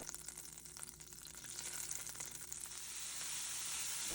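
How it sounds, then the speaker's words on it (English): Unsalted butter melting and sizzling in a pan while making a brown sauce, a steady close crackling hiss that grows brighter and louder toward the end, with no voices. "Melt some unsalted butter."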